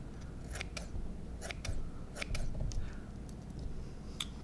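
Scissors snipping pike and musky fly-tying materials, a series of sharp close cuts in irregular bursts over a low background hum.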